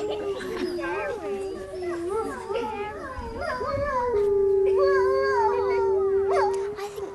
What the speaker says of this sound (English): So they start to howl back.